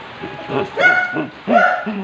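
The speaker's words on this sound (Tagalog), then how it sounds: "Nainig mo aso ko" A pet dog at home gives a few close, sharp barks and yips in quick succession, irregular and loud.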